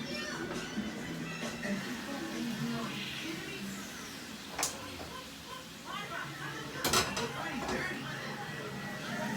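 Plates and utensils clink and scrape while a steak stir fry is spooned over a bed of rice, with scattered light clatters and a couple of sharper knocks beneath faint kitchen noise, no talking.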